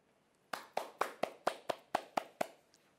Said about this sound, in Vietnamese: Chúng mình hãy cùng thưởng cho phần kể chuyện của ba bạn một tràng pháo tay nhé.